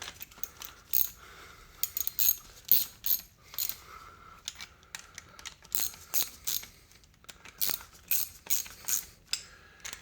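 Hand ratchet snugging bolts on a 2.0 L engine during an engine and transmission swap on a 2004-era Suzuki Forenza, quick bursts of clicking pawl strokes repeated in short runs, close and fairly quiet.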